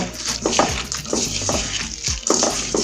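Chilli plant greens being worked in a pan by hand: loud, close rustling and scraping strokes at a fairly regular pace over a steady frying hiss.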